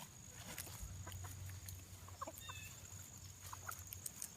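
Chickens cluck softly and intermittently while eating popcorn, with a few higher chirps, over a quiet low background hum.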